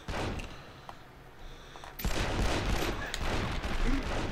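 Machine gun fire in 24: The Game on PlayStation 2, from several enemies, a dense, continuous crackle of overlapping shots that swells louder midway and keeps going, close and harsh.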